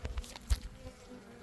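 Honey bees buzz softly around an open hive frame filled with brood, a faint, brief hum with a few louder passes close to the microphone.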